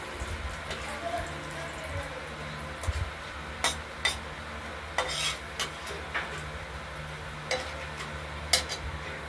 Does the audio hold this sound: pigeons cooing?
no